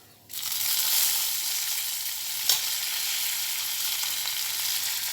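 A sudden loud burst of sizzling as curry leaves hit hot oil while making semolina upma, settling into a steady crackling hiss with one brief clatter partway through.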